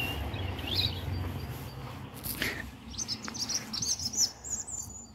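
Birds chirp and tweet in quick high bursts across the second half, over a rumbling outdoor background in the Scottish countryside.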